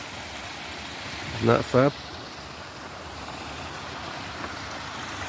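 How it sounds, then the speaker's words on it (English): A natural waterfall in a river valley, heard from the edge of a drop high above it, gives a steady, distant rushing wash. A person's voice briefly speaks over it partway through. "that's a natural waterfall you can hear down there."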